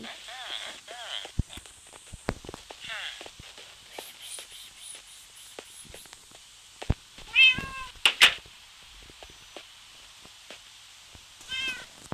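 Short cat meows in Minecraft, a few scattered mews amid soft footsteps and faint background sounds, with a voice speaking intermittently.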